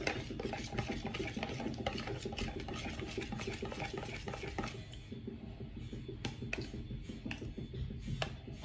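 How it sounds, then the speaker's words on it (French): Bagel dough mixed by hand in a bowl with warm water, heard as a continuous close rubbing and squishing that is busy at first, then thins into scattered scrapes and taps. "On mixe."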